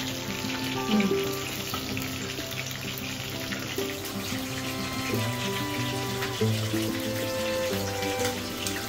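Home-style chicken fry spits and crackles in a pan at a steady moderate level, with scattered clinks and tonal kitchen noises layered over the sizzle, and no voices.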